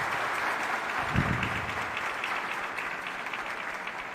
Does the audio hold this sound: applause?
yes